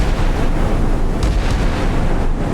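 SM-1 MR / RIM-66 surface-to-air missiles launch from a warship in the naval combat game Sea Power, a continuous loud roaring rumble with heavy low-end blast noise and no speech.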